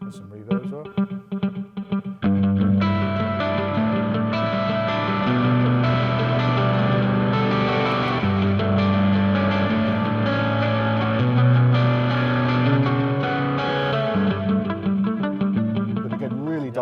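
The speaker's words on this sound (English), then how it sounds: "This is an electric guitar with some delay and some reverb as well." An electric guitar patch on a Korg Kronos keyboard plays sustained, layered chords washed in delay and reverb, loud and continuous after a brief quieter opening with talk.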